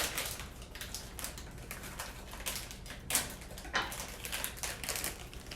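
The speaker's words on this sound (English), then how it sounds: "I actually have some pre-shredded cheese. This is a taco blend. And rip this bag open." A bag of pre-shredded taco blend cheese is torn open close by, with crinkly plastic rustling and tearing in a steady crackle, then two sharper rips near the middle before the crinkling carries on.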